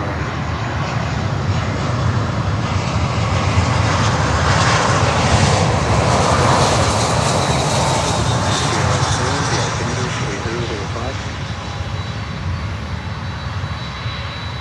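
An aircraft arrives at Miami airport, its engines a loud, sustained roar that swells and then slowly recedes, heard close and steady throughout with no voices on top.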